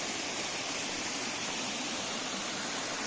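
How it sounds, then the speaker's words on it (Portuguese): Waterfall along the Pico da Bandeira mountain trail, a steady, dense rush of falling water close by, filling the sound with constant broadband noise and no voices. "Cachoeira."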